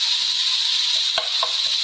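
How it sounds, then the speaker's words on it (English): Mince sizzles loudly in a frying pan while being stirred and mashed, giving a continuous, close crackling hiss with a few soft scraping knocks and no voices. "Hopefully you can hear me over the ceiling, sizzling of the mince."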